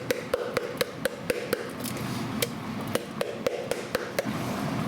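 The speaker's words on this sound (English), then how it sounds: "we're gonna make sure this thickens up as we whisk in all that cheese" A whisk taps and scrapes sharply against a pot over and over while cheese goes into a chicken fettuccine Alfredo sauce, with a low sizzling bed beneath the clicks.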